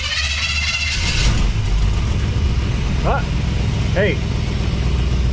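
A Willys Wagon engine runs steadily on a test drive, a loud, low continuous rumble up close, with people talking briefly over it and two short squeaky chirps partway through.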